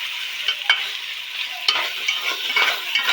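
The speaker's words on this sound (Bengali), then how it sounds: "মাংসটা দিয়ে ভালো করে নেড়ে চেড়ে কষে নিতে হবে।" Goat meat stirred and fried in hot oil in a pan, giving a close, bright sizzle with repeated spatula scrapes and clatters in an uneven rhythm, and no voices.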